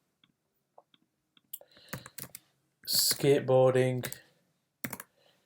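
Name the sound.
typing a search on a computer keyboard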